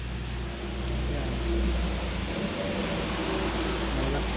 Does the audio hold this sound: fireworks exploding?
no